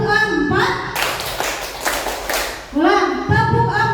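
A Grade 4 primary classroom's rhythmic clapping game, where a sustained burst of many children clapping together sits in the middle and singing or chanting voices come before and after it.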